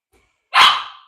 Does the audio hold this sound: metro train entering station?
no